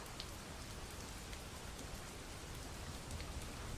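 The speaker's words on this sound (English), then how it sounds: "Why is it always raining?" Steady rain falls in a Halo Reach game scene, a faint continuous hiss of drops with no voices.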